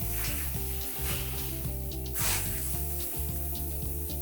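Steak sizzling steadily on a hot grill just after being flipped for fajitas, a loud continuous frying hiss with a constant hum underneath and small crackles throughout.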